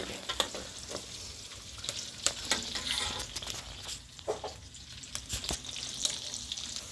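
Ingredients for Filipino apritada sauté in a pan, a soft, fairly quiet sizzle broken by frequent scraping and clinking stirs at irregular intervals, with no talking.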